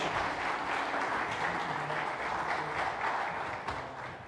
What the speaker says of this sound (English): Let's give them a round of applause for courage.